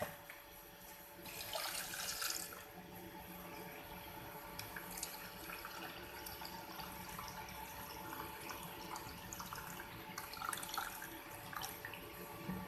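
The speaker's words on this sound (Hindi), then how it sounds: "इधर मैं इसको एक बॉयल में डालेंगे हम" Water runs steadily into a bowl of porridge grains (daliya) left to soak while chicken haleem is being prepared in a home kitchen, a continuous tap-like splashing that swells briefly near the start and again near the end.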